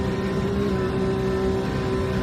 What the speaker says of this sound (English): Staying in 5th gear probably for the uphill part. Yeah, hitting the rev limiters